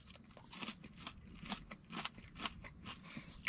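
Someone bites and chews a crunchy tater tot, producing a rapid series of close, crisp crunches with an uneven rhythm that fades and returns, quiet and with no talking.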